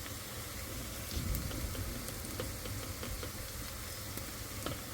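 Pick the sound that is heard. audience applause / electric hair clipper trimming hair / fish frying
fish frying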